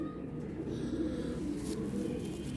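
Five newly caught pigeons coo in a soft, continuous low murmur, close and even, with no clear breaks.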